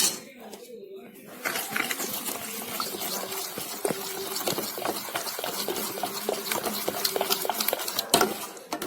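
A ladle stirring semolina (rava) batter for an eggless sooji cake, giving soft repeated scraping and clinking strokes in a regular rhythm, close up and moderately loud.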